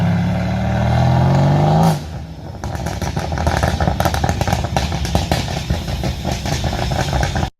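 A car exhaust with an excessive burble tune revs loudly with a deep droning tone, then drops into a long run of rapid crackles, pops and backfires that rattle on for several seconds close to the listener.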